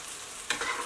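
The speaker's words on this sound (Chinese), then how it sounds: "热油下锅，把它给炒散" Two eggs stir-frying in hot oil in a wok hiss with a steady close sizzle, broken by a quick scrape of the spatula partway through.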